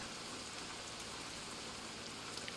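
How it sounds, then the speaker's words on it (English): Steady rain falls in American Truck Simulator, an even, moderately quiet hiss of drops that holds constant throughout, with no voices or other distinct sounds. "we wake up to rain the following day"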